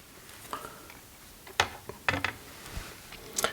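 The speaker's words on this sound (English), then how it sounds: "I just screw all motors to the frame." Small drone motors are screwed onto a lightweight 7-inch frame, giving quiet scattered clicks and short ratcheting screwdriver ticks up close.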